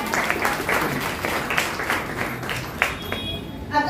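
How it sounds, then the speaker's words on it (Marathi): An audience at a Buddhist gathering claps in a soft, moderately paced patter, somewhat distant and thin, with a few sharper claps near the end. "तर या सर्वांसाठी एकदा टाळ्या होऊन जाऊ देत."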